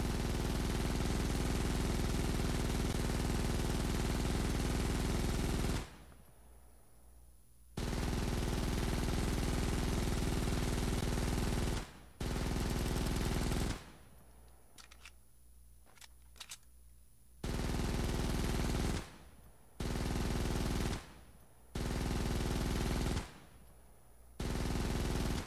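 Sustained automatic gunfire from a weapon in Fortnite Save the World, loud continuous bursts broken by several short pauses, with no talking.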